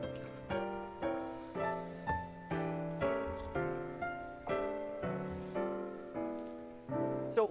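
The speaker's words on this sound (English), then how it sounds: "I'm adding what are called chord extensions and chord alterations to each of my chords," Electric guitar playing a sequence of jazz chords enriched with extensions and alterations, each chord struck cleanly and left to ring about every half second, close and clear with no talking.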